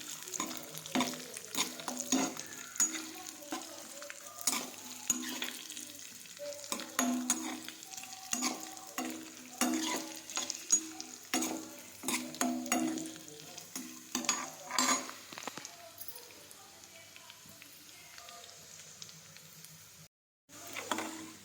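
Dry fruits sizzle in a frying pan, a soft steady crackle broken by repeated scraping and clinking as a spoon stirs them, fairly faint and close, briefly cutting out near the end.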